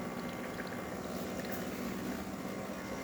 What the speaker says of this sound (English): As you can hear, the water is pumping through now, and there it goes.